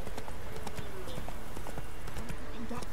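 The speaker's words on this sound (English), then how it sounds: "Wait, get off the horse." A horse in The Witcher 3 video game clip-clops with a steady, dense rhythm of hoofbeats throughout, loud and close under a continuous game soundscape.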